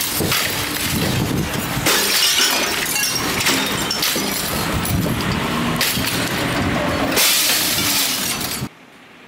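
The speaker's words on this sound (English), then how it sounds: "using them to break windows for initial ventilation" Firefighters at a house fire smash out window glass with ladders for ventilation, giving continuous loud shattering and crashing with heavy debris noise throughout, then a sudden drop to near silence at the very end.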